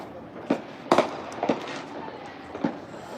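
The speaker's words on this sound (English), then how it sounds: "Fireworks currently to our right." Fireworks bang several times in the open air beside a sports field during a Major League Quadball match, with sharp separate reports spaced irregularly over a few seconds and faint crowd noise underneath.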